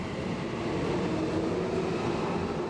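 A steady, loud rumble of a Tokyo subway train running toward Kasumigaseki, with continuous rolling noise and a sustained hum, no voices.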